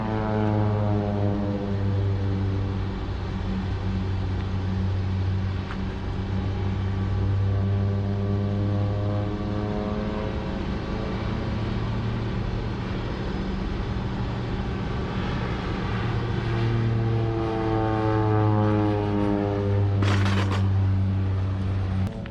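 A propeller airplane drones overhead, a loud, steady engine hum with pulsing harmonics that swells slightly as it passes, with no talking.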